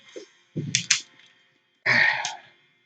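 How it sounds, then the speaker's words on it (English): A few short coughs close by: a quick pair of bursts, a pause, then one longer, harsher cough, with no talking. "I'm coughing"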